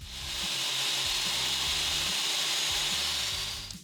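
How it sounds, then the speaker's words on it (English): A table saw fitted with a dado blade whines at a steady high pitch as it cuts rabbets into side panels, with a continuous loud roar that swells and fades at the ends. "I'll switch over to a dado blade in the saw and cut some rabbets on the side panels."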